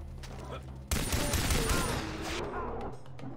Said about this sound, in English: I love how the pistol feels and sounds, but it's not that strong